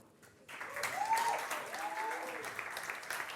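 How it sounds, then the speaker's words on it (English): Applause from an audience at a pitch competition starts abruptly after a quiet moment and continues as steady, moderately loud clapping, with a voice briefly heard through it. "I'd like to invite, with a huge round of your applause, the first pitcher, Chun Yi."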